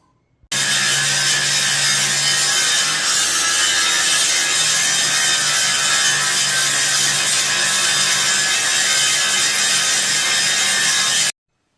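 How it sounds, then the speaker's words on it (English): A big 9-inch angle grinder cuts steel while a trailer BBQ smoker is being built, a loud, steady, harsh grinding roar lasting about eleven seconds with no talk, starting abruptly and stopping cleanly. "I got the big 9-inch grinder now to make short work of this."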